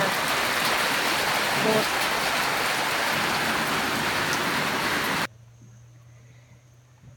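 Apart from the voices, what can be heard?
heavy rain falling in a garden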